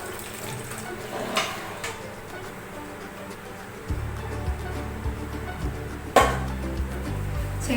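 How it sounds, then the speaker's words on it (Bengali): Cooking water from boiled mutton poured off through a strainer, a steady splashing pour that swells louder partway through, with clanks of the pot and utensils, recorded close in a kitchen. "এবার আমি এই জলটা আমি ছেঁকে নেব।"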